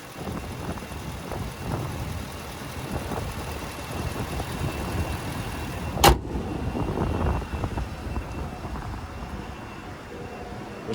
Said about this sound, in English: And there's that 5-liter naturally aspirated V8 engine.